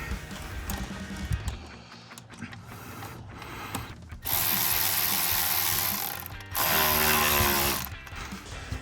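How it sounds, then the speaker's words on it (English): A ratchet with a 5/16 socket tightens hose clamps on an SR Performance cold air intake in a 2015-2017 Mustang V6, giving two loud, sustained bursts of rapid clicking after quieter mechanical handling noises. "tighten down your hose clamps"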